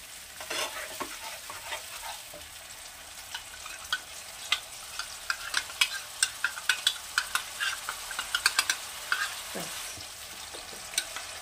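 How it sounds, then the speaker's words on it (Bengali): Spice mixture and water for a Bengali methi katla fish curry pour into a hot pan and sizzle steadily, with bright crackling bursts that grow denser toward the middle; no one speaks. "এর মধ্যে একটু জল দিয়ে আমি পুরো মিশ্রণটা ঢেলে দেবো"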